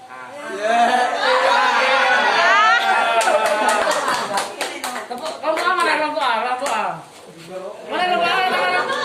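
A group of children claps hands in a classroom, bursts of clapping mixed with loud chatter and kids talking and shouting over it throughout.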